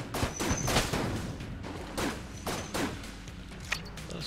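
Gunshots in Enter the Gungeon, a string of sharp, fairly quiet pops spaced irregularly over a few seconds against a steady game background.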